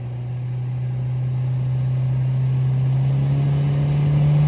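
2020 Citroën C5 Aircross engine revving, heard near the exhaust: a steady droning engine note that rises slowly in pitch and loudness as the revs climb, with no talk over it.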